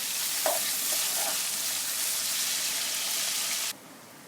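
Onions fry lightly in a pan for chicken keema karahi, giving a dense, even, close sizzle with a couple of soft knocks early on, before the hiss cuts off abruptly near the end.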